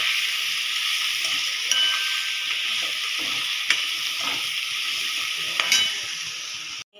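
Eggplant frying in hot oil makes a loud, steady sizzle close by, with a few faint clinks of a utensil against the pan over the spluttering hiss.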